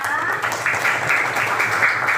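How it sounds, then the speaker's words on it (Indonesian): Sixth grade pupils' classmates applaud together in a school classroom, a steady, dense patter of many hands clapping at close range, sustained and even throughout with no talk over it. "Hebat, tepuk tangan buat anak kelas 6."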